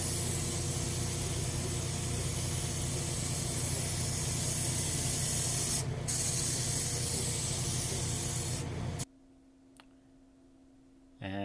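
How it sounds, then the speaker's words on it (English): A spray can lays clear coat onto the fallboard of a 1934 Baldwin L piano under restoration. A loud continuous hiss runs for several seconds, briefly interrupted, then stops and leaves near silence. "I'll spray a clear coat over that so your fingernails don't rub it off."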